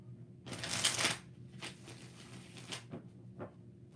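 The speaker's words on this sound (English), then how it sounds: "We gotta shuffle it again." Tarot cards being shuffled during a reading, a longer riffle followed by several shorter quick bursts, close and fairly soft with no talking.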